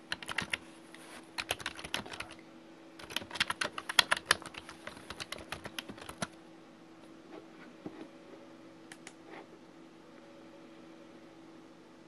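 Computer keyboard typing while entering a header in Word 2010: bursts of quick, close key clicks, then sparse isolated taps, over a faint steady hum.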